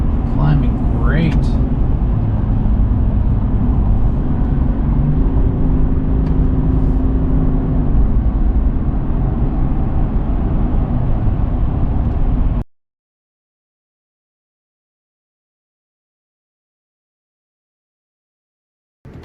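A GM truck engine revs hard at nearly 4,000 RPM as it pulls a trailer uphill. The engine drones loud and steady, with a shift partway through, and then cuts to silence for the last few seconds.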